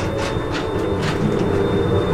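Trans-Siberian train in Russia running, heard from the open vestibule between two carriages: a loud, continuous rumbling roar with faint rhythmic clicking of wheels on rails, no voices.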